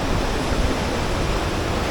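A Himalayan river rushes past in a steady, dense roar of flowing water, close and loud, with no break or change throughout.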